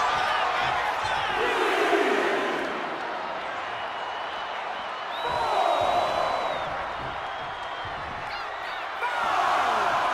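A big arena crowd at a WWE Money in the Bank wrestling match roars and cheers in waves, swelling loudly at the start, middle and end with a dense, sustained wash of voices and whistles.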